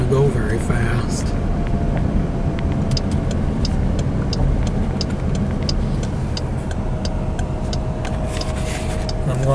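Damaged vehicle being driven slowly home, a steady engine and road rumble with wind noise running throughout, faint ticks and rattles on top, and no speech.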